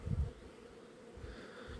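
Carpathian honey bees buzz close at an open hive, a loud burst of humming at the start easing into a steady, lower drone of wings.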